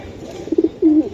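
Pigeons kept for sale coo close by, two soft low coos followed by a longer, louder rolling coo.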